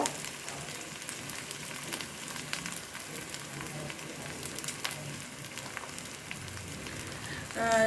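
Ground cumin, coriander and dry chilli paste hitting hot oil in a pan, a steady low crackling sizzle that runs throughout at moderate volume, with small pops scattered across it.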